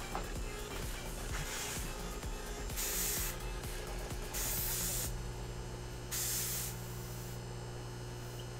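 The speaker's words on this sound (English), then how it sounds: "What we want to do is just lightly spray the coils with an even coat of similarly transparent green." Airbrush spraying thin transparent green paint onto the coils of a Space Wolves miniature: repeated bursts of close, airy hiss over a steady compressor hum, starting and stopping several times without speech.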